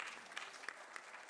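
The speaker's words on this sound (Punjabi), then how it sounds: "ਤਾਲੀਆਂ ਜੀ।" A conference audience claps at the 2nd International Punjabi Conference in Pakistan, a brief, faint patter of applause with a few sharper individual claps standing out.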